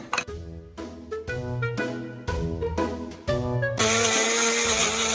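A kitchen blender whirs through frozen banana and mango for ice cream, running in a series of loud bursts with brief stops between them, then settling into one steady, higher-pitched spin at the end.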